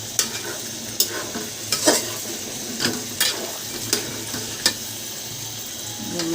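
Pieces of cow udder meat frying in their own rendered fat with no added oil, giving a steady close sizzle broken by regular scraping clacks of stirring about once a second.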